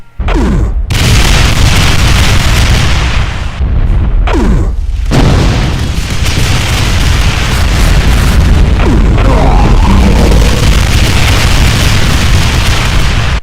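In a Doom mod game, a Mancubus variant sets off trails of ground explosions: loud, deep booms roll one after another with brief gaps, then merge into a continuous rumbling barrage.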